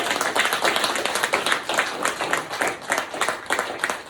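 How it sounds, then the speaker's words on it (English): A school ceremony audience at West Mound Elementary claps for a teacher, with brisk, fairly close applause in uneven bursts and little talk. "can we clap it up for Miss Allen?"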